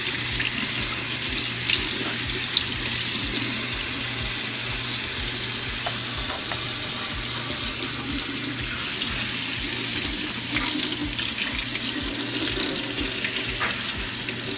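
King crab legs rinsed under a running kitchen tap, a steady loud rush of water splashing into the sink with faint clatters of the shells, no talking.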